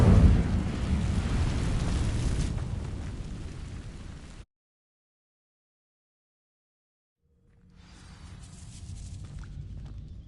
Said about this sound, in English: These dry vines are one spark away from becoming kindling. Incendio!